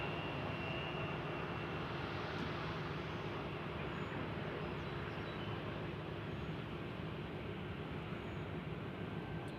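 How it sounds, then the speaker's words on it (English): Distant continuous roar of a WestJet airliner's engines at Nashville International Airport as it prepares for takeoff, a steady broadband rumble with a faint whine, moderately quiet and without talk. "We got a WestJet about to take off."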